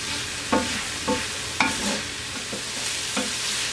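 Tomato paste and spices cooking in a cast iron pan for chili, a quiet steady sizzle punctuated by about five evenly spaced utensil scrapes and taps.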